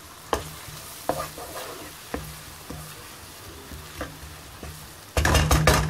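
Garlic sizzles and crackles in a hot pan while a spoon stirs it, with sharp scraping taps spaced about a second apart over a steady frying hiss, ending in a louder burst of sizzle.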